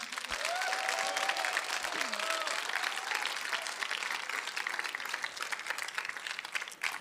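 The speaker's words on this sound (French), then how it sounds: "Les participants méritent tous une bonne main d'applaudissements." A school audience at a secondary-level talent show final applauds the performers, sustained even clapping at moderate distance with a brief voice near the start.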